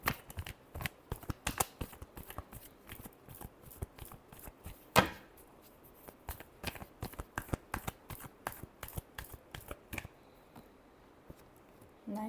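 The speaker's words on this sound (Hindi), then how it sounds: "Last shuffle." Tarot cards are shuffled by hand in a steady run of crisp riffling and slapping strokes, close and quiet, with one sharper knock partway through.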